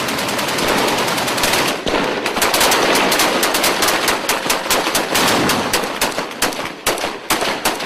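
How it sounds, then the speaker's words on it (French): Men unload their weapons in all directions in sustained, dense bursts of automatic gunfire, loud and continuous with rapid overlapping shots and no pauses of quiet. "les hommes déchargent leurs armes n'importe où et dans toutes les directions"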